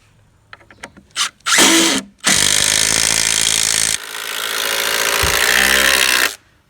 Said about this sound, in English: Definitely need an impact driver for this part of the job.